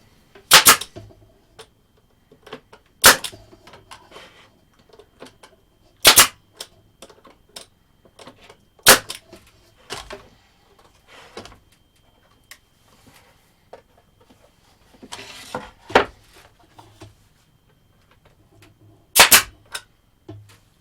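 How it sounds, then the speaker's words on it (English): A worn pneumatic nail gun fires nails into a custom wooden center console, sharp loud single shots spaced a few seconds apart, sometimes in quick pairs, with quieter handling knocks and shop noise between them. "So we'll glue them in, shoot them in with the nails"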